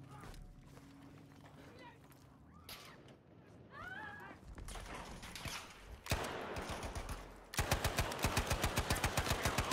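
M3 Grease Gun submachine gun in Battlefield 5 firing rapid, evenly spaced automatic bursts up close toward the end, after quieter in-game footsteps and movement, with someone talking throughout.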